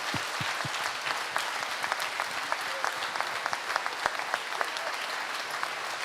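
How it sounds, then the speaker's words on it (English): An audience applauds at the end of a lecture by an astronaut on Space Shuttle mission STS-122, a dense, sustained wash of clapping from a crowd filling the room at an even level throughout. "a big applause again for Dr."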